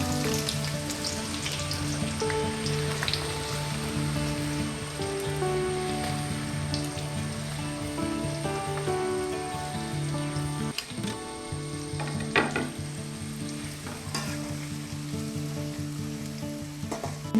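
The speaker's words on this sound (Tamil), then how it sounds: "நம்ம இந்த பெரிய வெங்காயத்தை எண்ணெயில் போட்டு பொரிச்செடுக்க போகிறோம்." Big onions deep-fry in hot oil in a kadai, giving a steady, dense sizzle and crackle that runs without a break, with occasional louder pops and a faint hum underneath.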